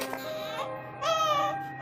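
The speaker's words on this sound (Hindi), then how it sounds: "उस बड़े से कूड़ेदान से एक बच्चे के रोने की आवाज आ रही थी।" An abandoned baby crying from inside a large garbage bin, two wailing bursts separated by a short pause, the second louder and more sustained, fairly close.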